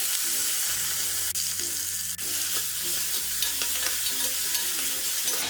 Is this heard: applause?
no